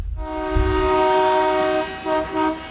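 A special water train in Maharashtra, India, sounding a long, loud horn blast that breaks into two shorter toots near the end, with a low rumble beneath.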